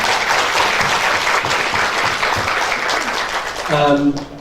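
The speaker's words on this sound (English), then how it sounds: "I think you deserve a very warm round of applause from everyone" Conference attendees give a warm round of applause, dense and sustained clapping from a large audience at strong volume, with a voice briefly sounding through it near the end.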